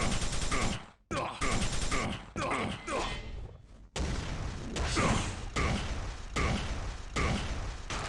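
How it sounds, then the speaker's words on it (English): Rocket launcher fire and explosions in Quake CPM gameplay come as a loud, dense run of blasts and mechanical clanks, with short gaps near the start and then continuous heavy bursts. "Excellent rockets at the end there, very well played."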